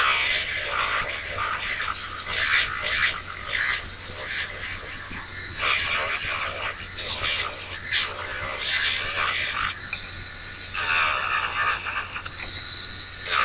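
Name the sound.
filing a fingernail with a nail file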